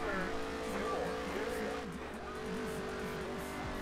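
Racing game car driving laps in a rough, battered race car, its engine droning steadily with wavering pitch and tire squeal, loud and continuous throughout with no talk.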